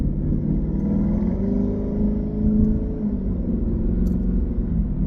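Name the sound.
Lexus IS500 engine revving with Apex'i N1 Extreme exhaust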